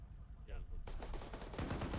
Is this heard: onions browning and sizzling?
no